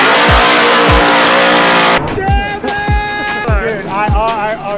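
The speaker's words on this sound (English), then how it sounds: "I am behind the wheel of an all-new Mustang." An all-new Ford Mustang Formula Drift car works at Virginia International Raceway, its engine roaring loud and close as the tires squeal in long sliding tones, with voices talking over it.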